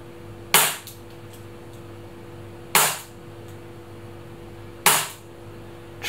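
A WE CT-25 Colt Junior airsoft pistol fires three single sharp snapping shots at even intervals of about two seconds, each crisp and close against a quiet background hum.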